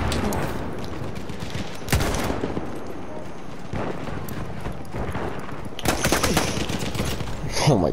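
Rifle gunfire in a first-person shooter game, with repeated loud bursts of shots and sharp cracks at intervals over a busy background of battle noise.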